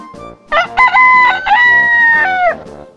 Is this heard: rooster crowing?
yes